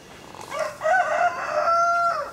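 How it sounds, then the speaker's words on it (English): A rooster in a backyard lets out a single clear crow, rising and then holding its call for about two seconds, heard close against quiet surroundings. "I think that's why he's crowing."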